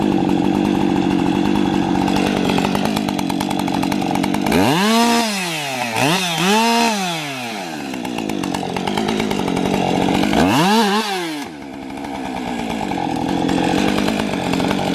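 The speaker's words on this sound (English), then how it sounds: "We got the 572 now with a 24-inch bar, non-skip full chisel chain on it." A Husqvarna-style 572 chainsaw with a 24-inch bar and full chisel chain roars loudly while cutting white oak in a creek, with two bursts where the engine revs sharply up and down between steady high running.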